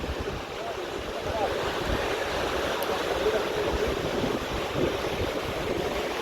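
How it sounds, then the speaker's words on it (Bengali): Sea waves of the Bay of Bengal break along the shore at Cox's Bazar at dusk near the marine drive, a constant broad roar of surf mixed with wind rumble on the microphone. "এই যে দেখুন কি সুন্দর ঢেউ।"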